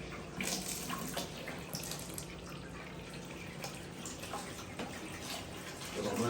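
Water drained out of a flowerhorn fish aquarium for a partial water change, a steady, faint rushing and splashing stream that runs continuously without pause.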